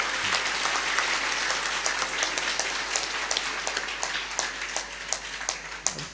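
Audience applause at a spoken sermon or discourse, a dense, steady wash of many hands clapping that continues throughout, with scattered louder individual claps standing out near and far.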